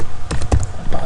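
Keys on a computer keyboard are tapped in a brief quick run of a few clicks, close and clear.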